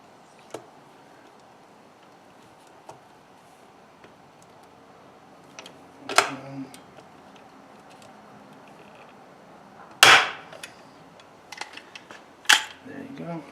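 A handheld pop rivet tool sets rivets while a spark arrestor is installed on a Lexx XC exhaust: three sharp, fairly loud snaps spaced a few seconds apart, separated by faint clicks and quiet handling.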